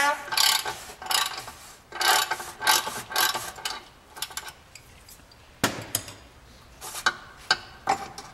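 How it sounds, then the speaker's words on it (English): An Audi A4 2.0T FSI oil filter housing being loosened with a 36 mm socket and ratchet, giving bursts of close, rapid ratchet clicks separated by short pauses, with sharper metallic taps near the end. "using a 36 millimeter socket, you can remove the filter along with the filter housing."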